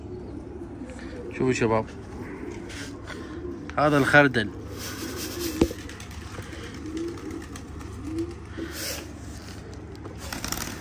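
Racing pigeons coo in a loft in a few soft bursts over a steady background hum, while someone talks nearby.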